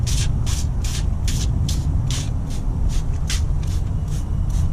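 Cleaner is sprayed inside a fire-damaged 2016 Yukon Denali in a quick series of about a dozen short, sharp hissing bursts, close and evenly paced over a low background rumble.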